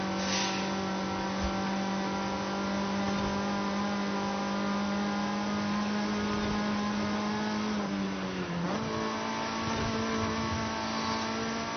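2016 Mazda MX-5 ND engine accelerating on the road, a steady, strong mid-pitched drone held for a long stretch that then dips briefly with a gear change and climbs again.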